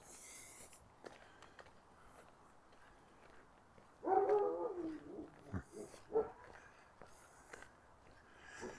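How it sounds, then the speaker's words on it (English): A dog barks in a few short bursts at a distance, fairly faint over quiet urban outdoor ambience during an evening walk down a city street. "Some dog having a few comments about my passage."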